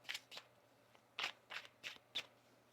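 A tarot deck shuffled close by, in six or so short crisp papery bursts spread unevenly, fairly soft and with no talking.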